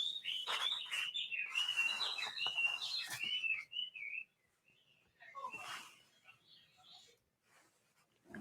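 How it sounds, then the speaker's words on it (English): Songbirds chirp and whistle in a bird shop in Chinatown, a busy, overlapping flurry of tweets close by that fades to sparser, quieter calls in the second half, with faint murmuring behind. "listen to this bird shop in the middle of Chinatown, where it sounds like the woods in spring"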